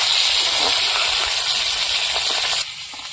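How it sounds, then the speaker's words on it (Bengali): Sona Bogo fish sizzle loudly in hot frying oil, a dense, continuous hiss with faint crackles close by, dropping slightly in level near the end, with no talking. "বাকি মাছগুলো ভেজে নেবো"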